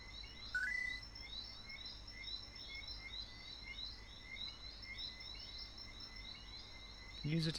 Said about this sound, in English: You can't just have the sound of birds chirping.